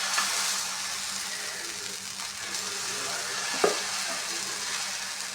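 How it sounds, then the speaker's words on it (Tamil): Onion dosa batter is poured onto a hot griddle and sizzles in a steady, close frying hiss, with a brief scrape or splash partway through. "இப்போ வந்து கல் சூடாகிடுச்சு. இப்போ நான் வந்து ஊற்றிடுறேன்."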